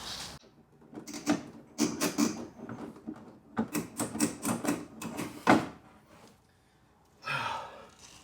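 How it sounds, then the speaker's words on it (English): Plastic trim clips clicking and snapping as a fender is pried off a Jeep JL, with a run of close, sharp mechanical cracks and one louder snap near the end, followed by faint handling noise. "Okay, so I broke the first clip."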